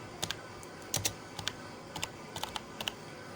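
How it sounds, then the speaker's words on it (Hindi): Keys on a computer keyboard clack in short clusters as a heading is typed into a marksheet, close and crisp over a steady background hiss, with no talking. "मैंने मार्कशीट यहाँ पर टाइप कर लिया"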